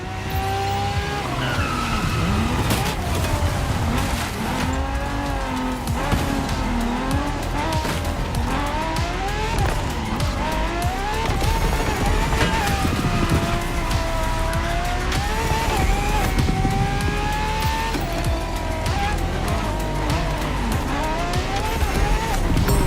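A La Ferrari in a racing video game, its engine revving and whining continuously with tire squeal and skidding, loud and unbroken throughout with no talk.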